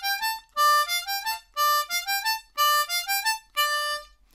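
A C harmonica plays the introductory vamp of the Game of Thrones theme, bright reedy notes in four short repeated phrases with pauses between them, clear and close with no talking.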